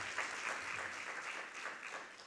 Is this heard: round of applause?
yes